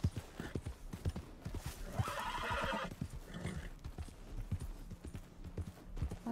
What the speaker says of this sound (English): It said we could drift with the horse now.